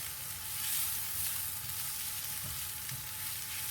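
Garlic and chilli sizzle with softened onion in a pan, a steady close frying hiss with faint stirring, no voices.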